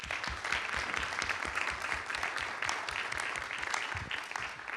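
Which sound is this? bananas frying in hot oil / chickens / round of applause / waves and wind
round of applause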